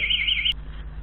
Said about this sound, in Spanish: Va a seguir sonando la alarma durante un tiempo